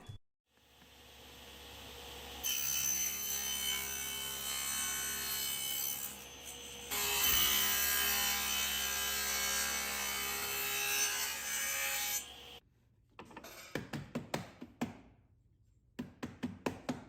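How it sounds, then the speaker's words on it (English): A woodworking tool shaves thin layers of wood from a tenon to fit a joint for a minimal modern side table. Two long, steady rasping strokes are followed by short, sharp scraping passes and taps, close and with no voices. "Shave as little as possible off each side of the tenon to get a perfect fitting joint."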